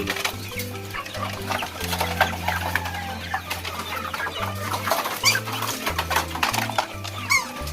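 Several chickens cluck and chatter nearby, overlapping short calls repeating irregularly over a low background hum.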